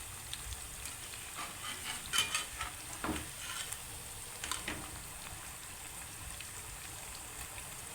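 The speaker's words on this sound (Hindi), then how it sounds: "आपने फ्लेम को लो नहीं करना, गरम ऑयल में पकाना है," Potato French fries fry in hot oil over a high flame, a soft, steady sizzle with a few brief louder bubbling bursts, heard alone without talk.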